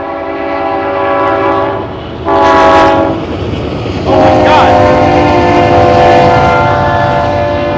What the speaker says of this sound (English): this one incident involving a freight train